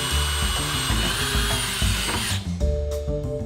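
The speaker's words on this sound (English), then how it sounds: "continue to drill a 3 30-second pilot hole through push knife" A power drill whines steadily as it bores a pilot hole through a steel auto-glass push knife, pausing briefly near the end before the tone resumes.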